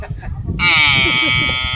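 A voice imitates a hungry buffalo calf, giving one long, loud, steady bleating cry that starts after a short stretch of quiet murmuring.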